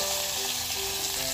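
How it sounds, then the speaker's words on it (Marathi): Ginger-garlic paste and fresh green coriander hit hot oil with browned garlic in a tempering, giving a dense, continuous sizzle and crackle that stays loud and steady throughout, with no voices. "आता ही आलं लसूणची पेस्ट घालतेय मी थोडीशी आणि सोबतच ही थोडीशी हिरवी कोथिंबीर."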